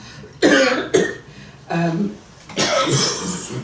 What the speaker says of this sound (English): Listening to us all coughing.